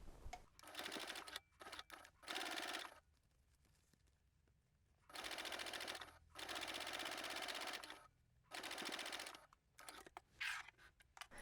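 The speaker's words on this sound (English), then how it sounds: "We're going to baste that in place with 1/8 of an inch seam allowance or a couple of millimeters from the edge" A sewing machine bastes bag pieces in place about an eighth of an inch from the edge, running in several loud, close bursts of rapid stitching separated by quiet pauses and a few short stops and starts.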